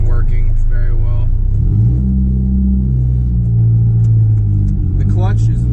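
The engine of a 25-year-old project truck, driven on its first drive in six years, rumbles low and loud in the cab, rising in pitch as it revs, while someone talks over it at the start and end.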